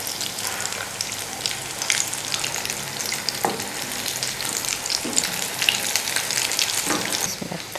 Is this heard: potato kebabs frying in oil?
yes